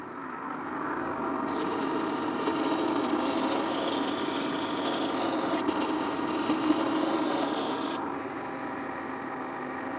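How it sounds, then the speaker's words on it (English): A small linisher belt sander grinds the edge of a metal air intake tube for a Fiat Dino, a steady abrasive rasp with a bright hiss that starts after a quiet lead-in, holds for about six seconds, then stops. "let's go over to our little linisher"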